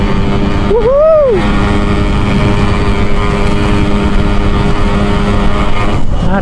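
A motorcycle rides along a road with a steady droning engine, and a rising and falling pitch sweep passes early on. Faint voices are under the engine noise.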